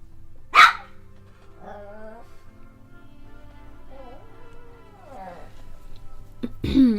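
A pet dog gives a sharp bark near the start and another at the end, with softer whines and vocal sounds in between, fairly close and indoors, alongside a voice.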